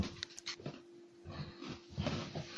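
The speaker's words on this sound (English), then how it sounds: "His doggone fingernails clippity clopping all over the floor." A dog pants close by in quick, uneven breaths, with soft clicking as its nails patter across the floor, heard quietly with no talking.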